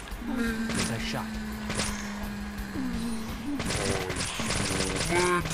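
Gunfire in the video game Deadly Premonition: a single sharp shot early, then a burst of rapid shots near the end over a steady engine-like drone, with someone talking throughout.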